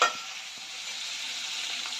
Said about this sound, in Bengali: এই মাছগুলো আমি ভেজে নেব